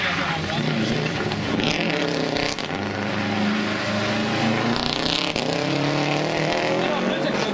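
A historic rally car at Rajd Barbórka on Karowa pulls away with a steady loud engine drone, under continuous Polish commentary and crowd noise.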